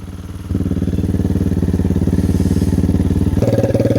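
Lifan KP Mini 300 motorcycle engine with a KP Moto exhaust muffler, a close, loud, rapid thumping idle that steps up in revs partway through, with light mechanical rattle.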